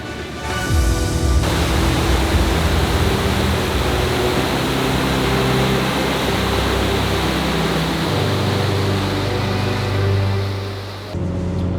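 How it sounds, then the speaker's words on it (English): Waterfall on Minnesota's North Shore of Lake Superior, a broad steady rushing roar of falling water filling the scene, with a low engine-like hum at the start and a brief swell near the end. "let's check out the waterfall"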